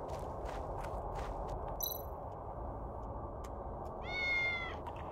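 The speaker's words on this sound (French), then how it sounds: "Ah, c'est notre pote William le chat." A cat meows twice in a video game, short bright calls over a steady ticking, clock-like background and a low ambient hum.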